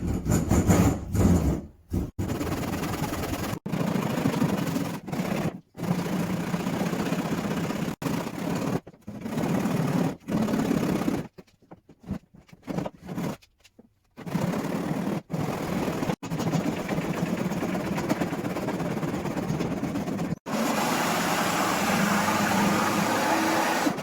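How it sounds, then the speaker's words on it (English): Steady rasping saw strokes cutting through an old wooden church pew, running continuously with a few brief pauses, close and fairly loud with no talking. "I'm ready to start cutting through that way."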